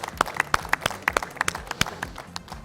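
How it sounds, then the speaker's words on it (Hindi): Scattered hand claps from an audience at an Eid special stage program honoring folk performers, distinct sharp claps spread irregularly over a couple of seconds, moderately close and fairly thin rather than a full ovation. "तालियां होनी चाहिए।"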